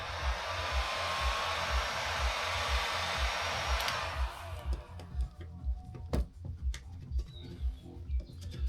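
A heat gun blows a steady loud rush of air for about four seconds, then shuts off, leaving a quiet garage with faint chirping birds outside; it is used while wrapping a Lincoln MKZ in film.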